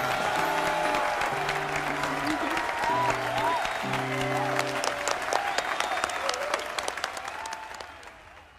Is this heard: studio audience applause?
yes